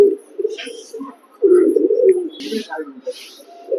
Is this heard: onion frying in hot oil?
no